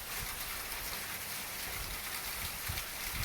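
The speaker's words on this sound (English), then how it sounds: "I'm starting to feel drips on R2 now from the wind blowing some of this rain in" Wind-blown rain falls steadily outdoors, a faint, even hiss with light patters and no breaks.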